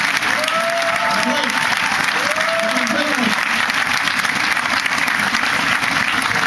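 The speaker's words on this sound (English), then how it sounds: "Give them a big round of applause." Loud, continuous applause from a large audience at a Barack Obama campaign event in Urbandale, Iowa, fills the whole stretch, with a brief spoken word and some voices heard under the clapping.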